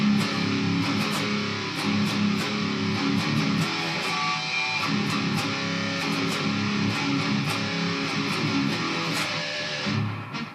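Heavy distorted guitar plays an interlude in a halftime feel, with steady drum hits and dense chugging riffs, loud and unbroken until a short drop at the end.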